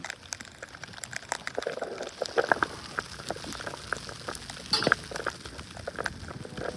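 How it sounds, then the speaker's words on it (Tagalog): Heavy snow pours down during a New Jersey winter storm, a dense, steady crackling patter like fine rain hitting surfaces, with a few sharper ticks and no voices. "Tapos yung naririnig niyo yung buhos ng snow."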